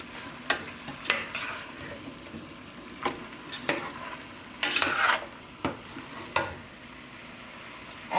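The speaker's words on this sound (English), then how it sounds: "Mix this all in." Vegetables, chayote squash and wild rice are stirred in a pot, with a spoon scraping and clattering in irregular bursts over a soft, constant sizzle, with no talking.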